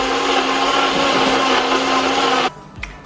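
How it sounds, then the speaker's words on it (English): A blender whirring through a thick smoothie with seed oil, a loud steady motor drone that cuts off abruptly near the end, followed by a brief soft clunk. "and blend it up."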